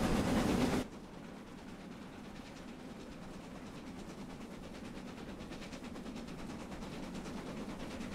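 Steam locomotive in Train Simulator Classic on a works train in double heading near Churston, a steady rhythmic chuffing and clatter running continuously at moderate distance after a brief louder opening burst.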